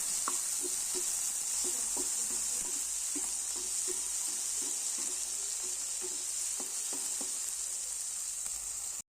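Onion and tomato sautéing in a pan for Tamil-style crab rasam, giving a steady close sizzle with soft, regular stirring clicks from a utensil throughout, no voices.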